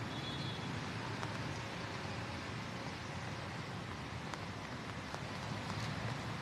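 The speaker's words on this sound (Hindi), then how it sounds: "अभी रिमझिम बारिश जो है वो लगातार यहाँ पे जारी" Light drizzle falls steadily in central Delhi near Mandi House, a soft, even hiss of rain across the whole stretch with faint distant traffic rumble underneath and no voices.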